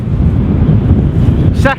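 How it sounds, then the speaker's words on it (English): Strong wind buffets the microphone on a beach at Bispham during sea fishing, a steady low roar that persists throughout, with a brief voice rising near the end. "Still very windy."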